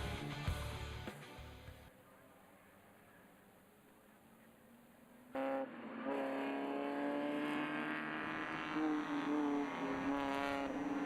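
Spec Miata race cars competing in a national championship race at Mid-Ohio, engines droning steadily at a distance before a louder car roars close by, its revving pitch climbing as it accelerates.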